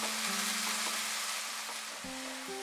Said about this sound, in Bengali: মাঝারি আঁচে পেঁয়াজটাকে আমরা 2-3 মিনিট ফ্রাই করব।